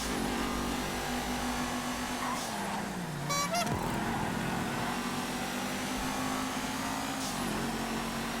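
A car in GTA 5 driven on a custom race track, its engine droning steadily and dipping in pitch midway, with a brief horn-like toot and constant engine noise throughout.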